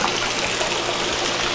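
Water running through a greenhouse pump and manifold lines after a winter storm, a brief steady rushing trickle and gush, close and continuous, with no voices.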